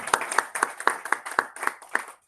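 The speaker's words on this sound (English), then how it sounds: "Let's a round of applause for Pauline." A small audience at a Toastmasters club meeting claps in a sparse, rhythmic pattern of about eight distinct claps, close and clear, trailing off at the end.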